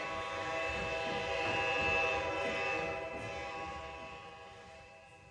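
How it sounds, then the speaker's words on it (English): West Coast 518 passenger train for Los Angeles departing: a sustained, moderately loud horn tone holds over a low rumbling engine, then slowly fades as the train pulls away. "All aboard. West Coast 518 for Los Angeles is now departing."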